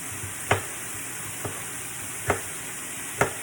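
Green and red peppers, thinly sliced, going into a searing pan for a French dip, heard as a soft steady sizzle broken by four sharp stirring clacks spaced about a second apart.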